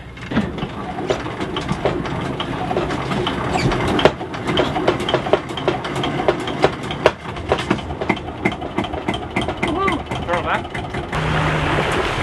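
A sailboat's engine being hand-started during sea trials in Nova Scotia, a rough clattering chug with repeated knocks and mechanical rattling, with people talking over it.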